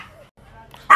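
A dog gives a single loud bark at the very end, close by, after a brief quiet stretch with faint voices.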